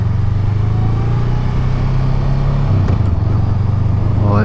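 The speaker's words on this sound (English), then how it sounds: "Bike's been warming up for about like 15-20 minutes, so we should be good to go." A Honda Rebel 500 motorcycle engine runs steadily after a long warm-up, a loud, close, even low rumble with a slight rise in revs near the end.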